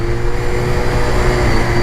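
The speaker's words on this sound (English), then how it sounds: "they've also got a really good whine, the RVFs, and my understanding is that's in part to the gear-driven" Honda RVF400 sports motorcycle with gear-driven cams, its engine giving a steady mechanical drone with a constant high whine layered on top, loud and continuous with no talking.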